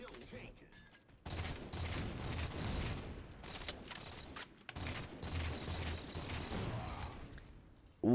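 Rapid gunfire bursts from the Halo 4 video game, a King of the Hill match, clatter in dense volleys with short pauses between, loud and close, with game effects mixed in.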